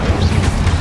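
A fire spell cast in Hogwarts Legacy on PS5: a brief, loud burst of roaring flame with a deep rumbling low end, sustained across under a second without a clear onset or tail.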